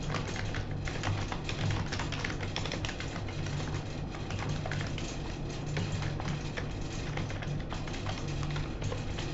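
Fast, continuous typing on a computer keyboard, a steady clatter of key taps with no voices.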